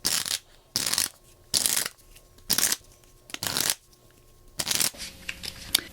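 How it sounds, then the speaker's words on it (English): A deck of playing cards shuffled by hand in a close, dry riffle sequence: six or seven loud bursts of rapid crackling flutter, each lasting about half a second, separated by short pauses with faint handling noise. "and then we're going to shuffle."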